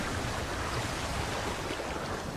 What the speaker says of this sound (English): The crash of water as the buffalo retreat takes on a new significance to her.